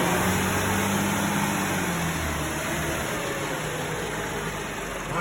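An Audi running on a road test after wheel bearing work, with a steady engine and road rumble under constant wind-like noise, close and continuous.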